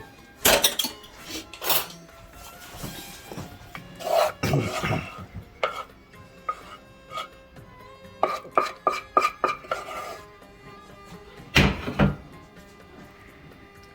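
Metal spoon scrapes and clinks against a dish while bechamel sauce is spread over layered zucchini, with irregular taps and rubbing sounds up close in an otherwise quiet kitchen.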